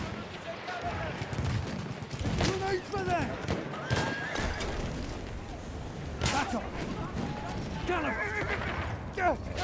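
Horse in the Battlefield 1 video game, whinnying and neighing with clip-clop hooves amid scattered gunfire, as a player talks throughout.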